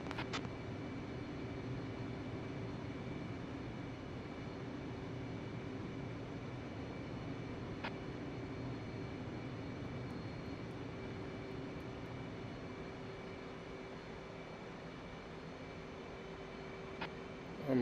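An Air France Boeing 747 jet drones steadily through a flight simulator, a constant engine roar with a fixed whine running the whole time, broken by a few faint clicks and no voices.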